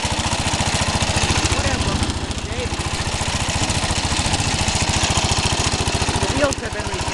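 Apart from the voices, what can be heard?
1968 Cub Cadet tractor engine running, loose hood rattling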